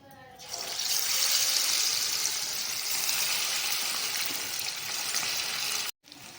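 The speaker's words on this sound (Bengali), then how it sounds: "এবারে এক এক করে মাংসগুলো ভেজে নেব" Marinated chicken pieces for chilli chicken hit hot oil with a sudden, loud, steady hiss that holds almost unchanged, then stops abruptly near the end.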